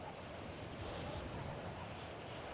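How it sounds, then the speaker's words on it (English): Steady rain in GTA 5 during an off-road race, a constant broadband hiss that stays even and unbroken throughout. "How long is the rain going to be?"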